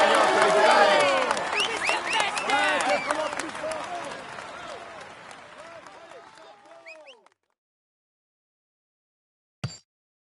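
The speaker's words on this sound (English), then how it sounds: "Applaud him as he deserves." Stadium crowd in the Tour de France 2017 video game applauding and cheering the white jersey winner, a loud, dense burst that thins out and stops abruptly, followed by silence and one brief click.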